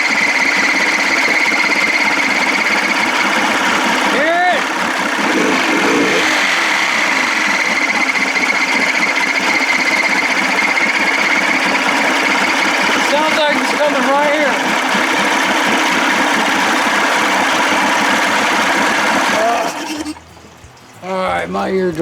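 A 55 hp Evinrude outboard engine runs loud and steady with a faint rubbing or scraping noise under the flywheel, a dense continuous drone that cuts out briefly near the end.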